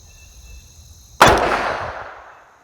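A single loud rifle shot at an outdoor range, fired with a test load: a sharp, close crack followed by a rolling echo that fades over about a second.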